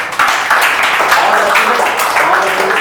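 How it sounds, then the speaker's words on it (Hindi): Clapping at a motivational career seminar, a fairly loud burst of hands that starts abruptly and carries on in a busy, continuous wash for nearly three seconds, with some vocal sound mixed in. "तो मैं अपने लिए ताली बजा रहा भाई।"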